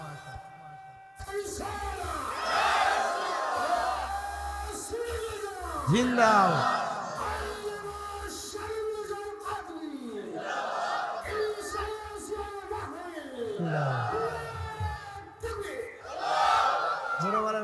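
A large gathering at a religious sermon shouts takbir in loud, rising collective cries, several swelling bursts in sequence, with a leader's voice calling between them.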